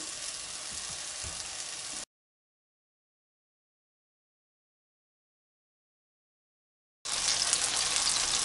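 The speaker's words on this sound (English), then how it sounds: "now I'm going to brown the peaches, and I'm going to be checking quite frequently to make sure that I'm not burning them" Peach halves browning in a hot pan, giving a steady close frying sizzle that cuts out for several seconds and then returns just as loud, with no voices.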